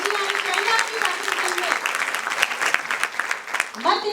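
An audience at a National Education Day session claps together, a dense, loud, continuous patter of many hands close by, with a voice breaking in briefly near the end.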